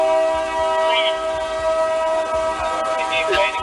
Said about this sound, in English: There's literally a train heist going on in the background. That's what you're hearing.